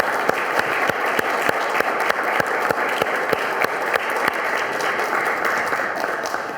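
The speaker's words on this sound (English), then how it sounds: "Let's give them a round of applause." An outdoor crowd at a Survivor Tree dedication applauds Oklahoma City bombing survivors with sustained, dense clapping that holds steady and loud throughout, with a few sharper claps standing out.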